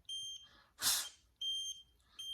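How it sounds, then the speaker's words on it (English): A TopTes PT199 combustible gas leak detector held near acetone gives a repeated electronic alarm: two bursts of steady high-pitched tones separated by a brief rustling noise, close and fairly loud. "when it starts beeping, just keep moving around until you get more bars on the thing"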